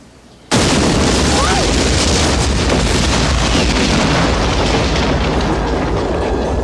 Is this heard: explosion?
yes